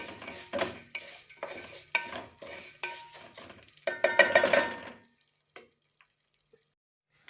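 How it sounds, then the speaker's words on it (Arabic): Vermicelli toasting golden in a pot is stirred with a utensil: a series of scraping, rattling strokes with a faint frying hiss and metal clinks, growing busier, then stopping and leaving near silence with a few small taps. "ونقلب الشعريه بتاعتنا اهي"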